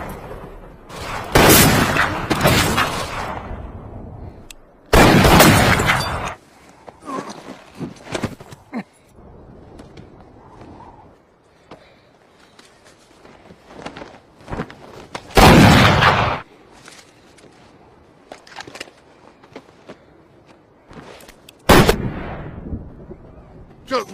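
Loud gunshots from a cowboy film shootout, several sharp broadband cracks spaced apart with quieter movement and ambience between, rifle-like blasts standing alone without talk.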